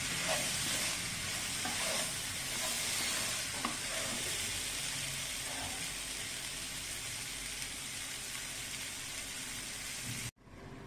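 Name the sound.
vegetables cooking for sambar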